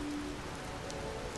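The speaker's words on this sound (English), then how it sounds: "It's raining in here" Steady indoor rain patters continuously in the video game Lies of P, a soft, even wash of drops with a faint tonal hum beneath, no voices.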